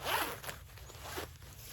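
A jacket zipper is pulled quickly once, close and quiet, followed by soft fabric rustling.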